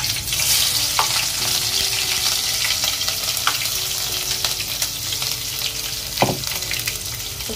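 Fenugreek seeds and asafoetida hit hot oil for egg masala, giving a continuous bright crackling sizzle with scattered pops and a couple of spoon clicks against the pan.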